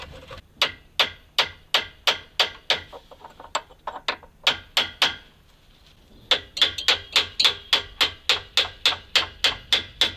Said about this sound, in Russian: И аккуратненько молоточком постучим и